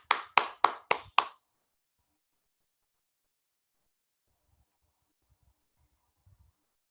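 Five quick, evenly spaced hand claps ring out close and crisp at a Toastmasters session, followed by near silence with faint low bumps.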